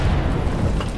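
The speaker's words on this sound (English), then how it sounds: "That is a pretty small HE round." A single high-explosive tank round detonates in the Minecraft Superb Warfare mod, a short, dull, low boom that fills the brief moment and then fades, with no talk over it.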